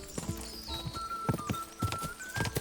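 A horse gallops in a horse race in the medieval video game Kingdom Come: Deliverance 2, its hooves thudding in quick irregular beats under game music and ambient tones, moderately faint.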